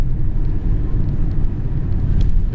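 A BMW E36 325td, a diesel 3 Series, driving along at speed, with a steady low engine and road rumble filling the cabin throughout and no speech.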